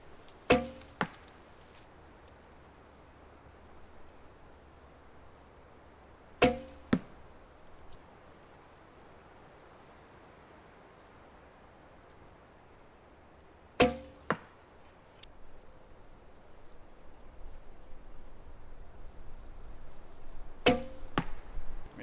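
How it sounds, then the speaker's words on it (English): Traditional bow shot four times outdoors, each release a sharp twang and clack spaced several seconds apart, with faint wind and a steady high whine in the background and no talking. "Let's try shooting 25 and see how it goes."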